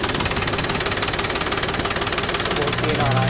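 A parked tractor with an oil leak idles, its engine throbbing in a steady close rhythmic knock, with a voice briefly cutting in near the end.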